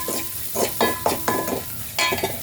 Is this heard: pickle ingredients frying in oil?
yes